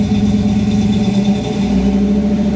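Chevrolet C10 pickup engine, warmed up and running after an overheating fix, held at a steady raised rev with a continuous low hum and droning harmonics, close and loud throughout.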